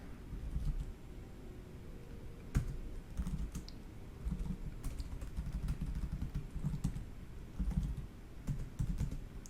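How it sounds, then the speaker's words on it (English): Keys clattering on a computer keyboard while entering commands, a quiet, close run of irregular clicks and taps with brief pauses between bursts. "now I type capital R"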